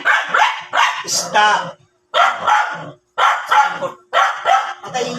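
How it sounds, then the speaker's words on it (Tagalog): A dog barks loudly and close in rapid bursts of several sharp barks, with short pauses between the volleys. A person briefly speaks during the barking. "okay lang yung aso kasi ang ingay"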